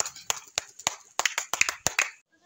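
A group claps in short bursts, roughly a dozen sharp, close claps in an uneven rhythm with brief gaps, with a pigeon loft setting and no talk over them.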